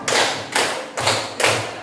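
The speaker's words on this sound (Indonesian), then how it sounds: "Tepuk 1, tepuk 2, tepuk 3, tepuk 4" Four loud, evenly spaced bursts of group hand clapping in a classroom ice-breaking clapping game, each burst a sharp broadband smack with a brief ringing tail, about half a second apart.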